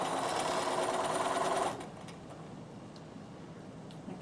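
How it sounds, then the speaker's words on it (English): A Bernina sewing machine with a number 10 foot stitches knit fabric with lace, a fast, loud, even mechanical whir that stops abruptly partway through, leaving quiet room tone with faint clicks. "I'm going to use the number 10 foot to stitch in the ditch."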